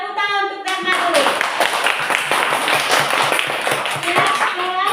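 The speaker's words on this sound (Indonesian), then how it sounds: "tepuk tangan untuk Dharma dulu" A classroom of students claps for a classmate during a lesson, a burst of brisk overlapping hand claps after a teacher's brief speech, fading as the teacher talks again.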